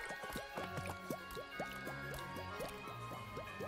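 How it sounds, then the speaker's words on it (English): Curry cooks at a Pokémon camp in Pokémon Sword & Shield, a rapid run of wet dripping, squishing plops repeating at an even pace over a soft liquid bed, fairly close and with no talk. "I'm going to set up a Pokémon camp. And cook a curry in order to heal everyone"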